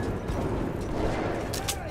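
Dense gunfire from enemies in the video game Metro Last Light Redux, a continuous loud rumble of shots and impacts lasting throughout, with a couple of sharper bursts near the end.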